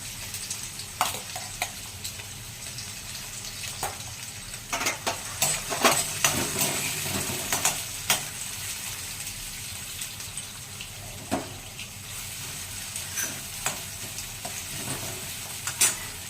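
Chopped onion fries in hot oil in a pan, giving a steady close sizzle under repeated scraping and clinking stir strokes from a utensil, with no voices.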